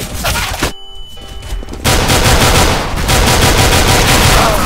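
A flashbang grenade goes off in CS:GO match play, with loud, dense gunfire and bursts crowding the scene, a brief muffled dip, then a harsh, continuous blast of noise.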